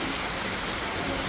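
Rain falls steadily in Cosmópolis, Brazil, a dense, even hiss of drops on surfaces that holds at a constant, moderate level, with no voices.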